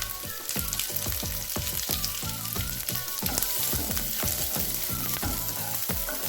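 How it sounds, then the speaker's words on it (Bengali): Chopped onion fries in a pan with a steady close sizzle, and a spatula stirs it in regular strokes throughout. "পেঁয়াজটা এবার খুব ভালো করে ভেজে নেব"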